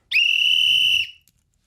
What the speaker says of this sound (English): Can I blow the whistle?